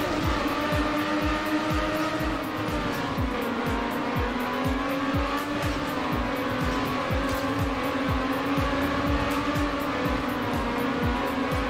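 A race car engine drones steadily at full throttle in the racing video game Trackmania Nations Forever, with a continuous loud roar, shifting pitch and repeated rhythmic clicks and tire noise, with no voices.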